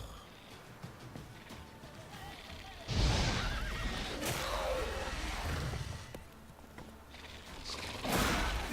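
Horse neighing in The Witcher 3, a loud whinny rising around the middle and again near the end over game background sounds and faint movement.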